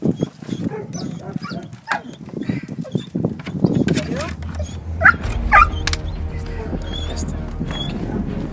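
Dog barking, yipping and whimpering during a rescue, with short sharp cries scattered over several seconds among rustling, thumps and movement noise, and people talking throughout.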